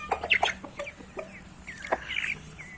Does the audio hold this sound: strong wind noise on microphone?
no